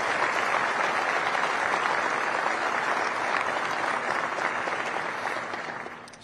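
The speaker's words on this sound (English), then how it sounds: "how about a round of applause for the Dickinson family, the Whiting family, and all of our military families" A ceremony audience applauds military families at a U.S. Space Command change of command, sustained even clapping that tapers off near the end.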